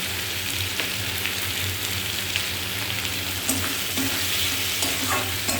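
Spice masala for fish curry is fried and stirred in a pan, giving a loud, close, continuous sizzle with scattered scrapes of the spoon throughout, and no voices.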